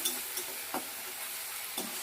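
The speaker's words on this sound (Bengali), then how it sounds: "মিক্সিতে যে পেঁয়াজ বেটে রেখেছি পেঁয়াজটা এবার দিয়ে দিলাম পেঁয়াজটাকে আগে একটু বেটে ভেজে নেব" Ground onion paste fries in a pan with a soft, steady sizzle and hiss, broken by a few short stirring scrapes of a spatula.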